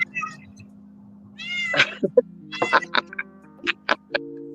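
A cat meows repeatedly, several short close cries in uneven bursts over a low steady hum, with faint voices in the background.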